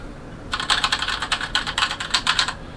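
Typing on a Razer BlackWidow Elite mechanical keyboard with yellow switches: a quick, fairly even run of light clacking keystrokes lasting about two seconds, close but soft, with no voices.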